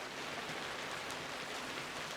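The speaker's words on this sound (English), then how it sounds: "Just until this rain passes, then obviously they can go out," Steady rain falling outdoors at sunrise, a dense, even hiss of drops close by with no other sounds.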